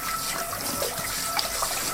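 Tap water runs steadily over a Ninja Foodi nonstick frying pan, a close, continuous splashing hiss heard on its own for a couple of seconds.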